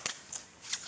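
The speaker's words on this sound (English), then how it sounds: "shuffling cards when they're brand new, or shuffling cards when they are old and worn" A deck of playing cards being shuffled indoors: three short, crisp riffling bursts in under a second, close and fairly loud, with no talking.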